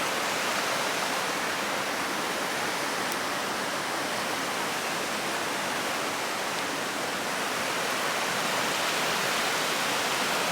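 A river rushes past a riverside spot in Scotland, heard as a steady, dense wash of flowing water that stays loud and even from start to finish, with no other sounds.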